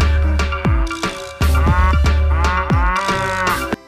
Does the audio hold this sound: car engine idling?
no